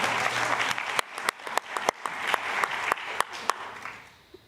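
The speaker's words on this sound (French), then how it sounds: "Vous pouvez applaudir." Applause from a conference audience welcoming a speaker at a science and indigenous-knowledge gathering. Sharp individual claps stand out over a moderate wash of clapping that thins and fades by the end.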